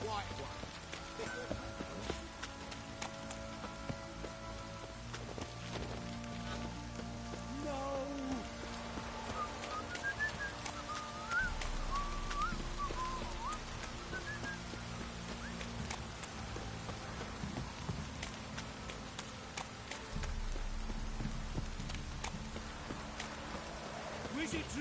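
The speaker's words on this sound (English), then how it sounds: "If it don't stop raining, my arse will rot off." Steady rain patters down throughout in the game The Witcher 3, a continuous soft hiss with faint background ambience and occasional muffled voices.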